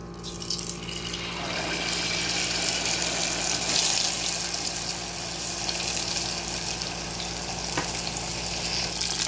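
Butter-coated food sizzles steadily in a hot pan, a loud, continuous frying hiss with bright crackle that swells slightly and holds throughout, with no talking.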